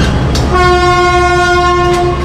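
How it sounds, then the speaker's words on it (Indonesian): Airlangga economy-class passenger train running, with a loud sustained multi-tone horn blast over the rumble of the moving railway cars. "Untuk rangkaian kereta api Airlangga ini terdiri dari 8 rangkaian kereta kelas ekonomi ya"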